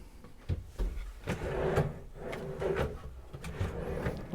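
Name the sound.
soft-close drawers sliding in a Niesmann + Bischoff motorhome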